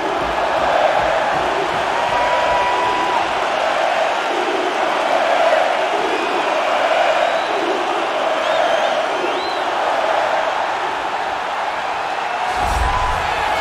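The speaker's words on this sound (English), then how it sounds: "Crowd going crazy." A big arena crowd in the UFC 4 video game roars and cheers steadily throughout at a women's bantamweight title bout, a loud, continuous wall of cheering and whooping that holds its level to the end.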